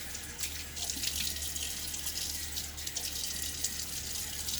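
Tap water runs steadily into a sink and is splashed on the face before a wet shave, a continuous close splashing flow with no talking.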